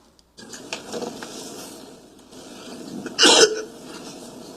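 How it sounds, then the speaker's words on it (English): A single harsh, wet cough rings out close by against a quiet room background. "I think that was a productive cough, though."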